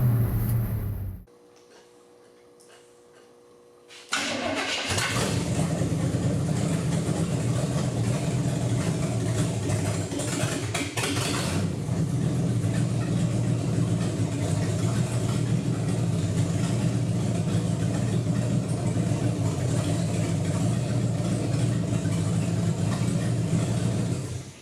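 A 1950 Chevy flatbed truck engine cranks briefly, falls quiet, then catches and settles into a steady, loud, low idle that runs on evenly for the rest of the clip.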